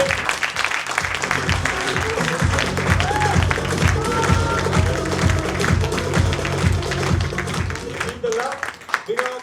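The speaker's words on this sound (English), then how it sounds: "Let's welcome with a big round of applause, RICHA to the stage." Brisk, rhythmic clapping from an audience welcoming a speaker to the stage, close and lively, with voices talking over it before the applause tapers near the end.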